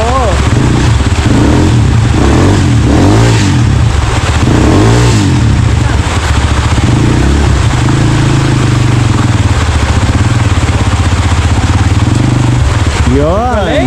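A motorcycle engine revs and strains on an uphill climb near Miyamit Falls in Porac, Pampanga, a loud continuous drone with rising and falling pitch sweeps, while people talk over it throughout.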